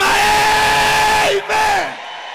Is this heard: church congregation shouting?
yes